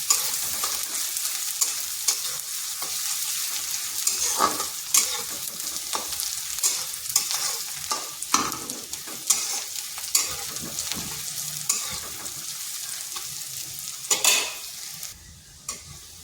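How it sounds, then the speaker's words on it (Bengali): Onion and garlic fry in a pan with a constant sizzle, broken by repeated scrapes and knocks as a spatula stirs them. No one speaks. "পেঁয়াজ রসুনটাকে একটু ভেজে নিচ্ছি যাতে তার কাঁচা গন্ধটা চলে যায়।"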